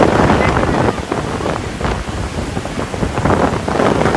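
Large sea waves roar and surge against the coast in the storm of Cyclone Remal, a loud, continuous wash of rushing water mixed with buffeting wind noise across the microphone.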